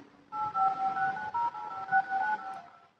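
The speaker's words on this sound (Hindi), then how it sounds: "अब आपको डायल पे टोन सुनाई दे रहा है" Dial pad keypress tones on a Tecno Pova 3 phone, a string of short, clear DTMF beeps in quick succession, moderately loud over faint background hiss, with no voices.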